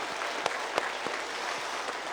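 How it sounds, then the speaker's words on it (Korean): A congregation at a church revival gathering applauds, the clapping a steady wash with a few distinct, sharper claps popping out near the listener. "하나님께 영광의 박수를 드리겠습니다"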